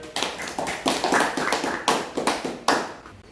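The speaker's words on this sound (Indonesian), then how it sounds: "berikan aplaus untuk Uun" A classroom of schoolchildren applauds a classmate, dense overlapping hand claps swelling in quick bursts, loud and close, with no talking over it.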